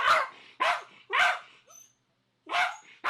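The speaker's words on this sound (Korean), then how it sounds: "그런데 무슨 일인지 좀처럼 짖음이 멈추질 않습니다." A dog rescued from a field, living among many rescued shelter dogs, barks over and over in loud, sharp bursts, four clear barks with short pauses between them, close to the microphone, with no talking.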